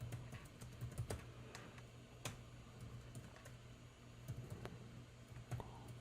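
Computer keyboard typing at a desk, a steady run of soft key clicks with a few sharper strokes, close and fairly quiet over a low background hum.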